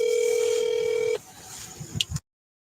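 A steady phone dial tone hums loudly for about a second, then cuts out and gives way to a couple of brief beeps and clicks as a call is placed.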